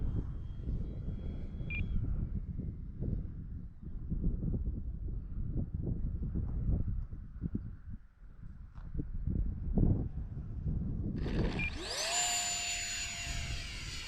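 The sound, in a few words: Habu STS RC jet plane flying overhead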